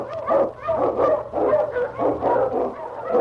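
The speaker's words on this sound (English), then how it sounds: "The Wonder Dog King, swiftest and strongest of Eskimo lead dogs" An Eskimo lead sled dog barks in a steady run of sharp, close barks about every half second, with a low hum running beneath them.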